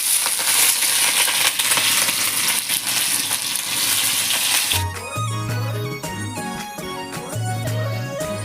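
Onions tip into a pan and start frying, with a loud, crackling sizzle and scraping that fades into a softer sizzle while background music takes over.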